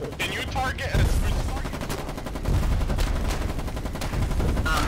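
Dense gunfire in the war game Foxhole: a steady barrage of overlapping shots and bursts, loud and continuous throughout, with no clear gaps.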